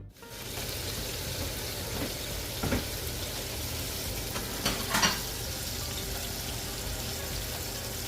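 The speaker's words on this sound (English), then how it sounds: "gonna add that mixture to your oil and fry until the onions are translucent" An onion mixture fries in hot oil, giving a steady close sizzle and crackle throughout, with a few faint stirring clinks and scrapes partway through.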